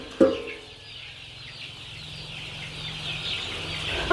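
A Peruvidai native chicken gives a single short, close cluck near the start, followed by a low steady hum and faint background noise.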